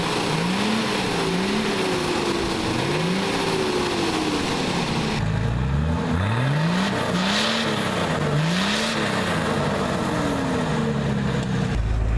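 Nissan Patrol Y60 engine heard from outside, a rough, gruff engine note revving up and down in repeated swells over a steady low rumble, fairly close and with no talk.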